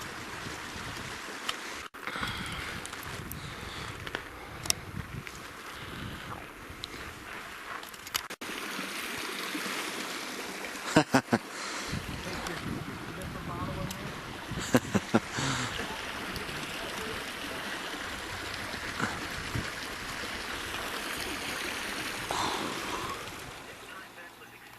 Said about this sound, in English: we are at the Bobby Thompson River here